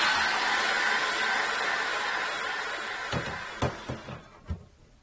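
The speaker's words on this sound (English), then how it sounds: "Here we go again with the air dryer." A hair dryer blows steadily over an acrylic painting, a loud constant whoosh that winds down and cuts off, followed by a few close knocks and clunks as it is set aside.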